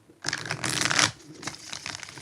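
Tarot cards being shuffled, a dense papery riffle that swells loud for under a second, then trails into quieter, scattered card rustling.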